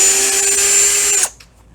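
A power drill drives a longer screw into an existing hole with a steady, high whine held for over a second. The sound then stops abruptly and leaves a faint tail.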